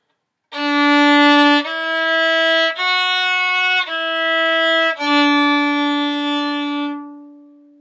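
A violin plays a short run of sustained bowed notes, five connected tones stepping in pitch, clear and close, with the last note fading out.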